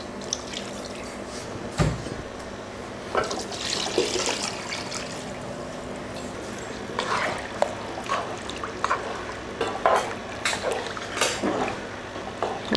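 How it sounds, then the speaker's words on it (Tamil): Water pours and drips into a pot of spiced country chicken curry, with scattered splashes and trickles in a quiet setting and no talking. "இப்போ இதில் தண்ணி சேர்த்துக்கலாம்"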